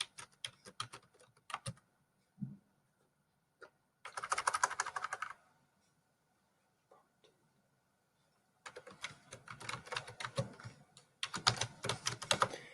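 Quiet computer keyboard typing comes in bursts of rapid clicks separated by pauses, close and soft, while grades are entered into a spreadsheet.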